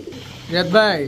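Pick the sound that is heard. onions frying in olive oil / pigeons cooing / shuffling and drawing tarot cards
pigeons cooing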